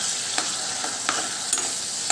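Steady sizzling of grated tomato paste frying in a hot pan, with a few soft stirring scrapes and clicks scattered through it, close up and with no voices.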